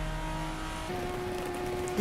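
1000-horsepower Toyota Supra with turbo boost maxed out in a sim racing game, flat out at top speed: a steady, sustained engine drone holding a high pitch, slightly rising midway, with no talk.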